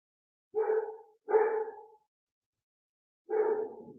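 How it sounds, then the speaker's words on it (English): Dog barks three times in quick, loud bursts, two close together and a third after a pause, with no talking. "and now he's barking like crazy"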